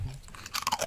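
Crunching bites into a cookie, close and brief, with sharp crackly chews growing louder toward the end.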